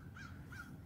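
Two short squawking bird calls, moderately close, rising above a steady low outdoor rumble.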